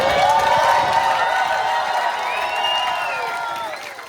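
A crowd at First Magnitude in Gainesville cheers loudly with whoops and raised voices at a ceremony handing Less Than Jake the key to the city, the noise slowly fading.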